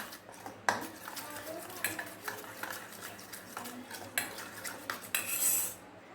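A milk mixture is stirred in a bowl, a spoon clinking and scraping against the sides in irregular strokes, close and fairly quiet, with faint background noise.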